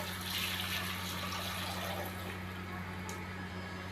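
Water runs and splashes into a pot being filled to boil about half a kilo of potatoes on a stovetop, a continuous rushing pour that eases off near the end over a low steady hum.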